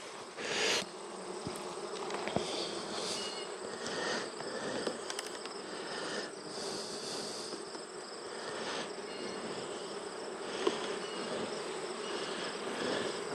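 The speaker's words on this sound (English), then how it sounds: "This box is right full of bees and honey." A hive box packed with honey bees gives off a steady, close, dense buzz that holds throughout, with a few brief clicks and knocks from handling the box, and no one speaks.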